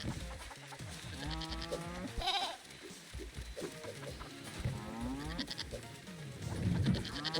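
Goats in the Moving Out 2 video game bleat repeatedly in wavering cries spread across the stretch, close and clear over game music and clatter, with no talk.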